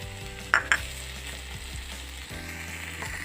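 Taro frying in a pan for a chicken dish, a constant close sizzle with two sharp clinks of a utensil near the start, then steady crackling over a low background hum.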